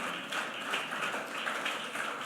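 A church congregation applauds in a steady, even wash of clapping from many hands, fairly distant and moderately loud, with no talk over it.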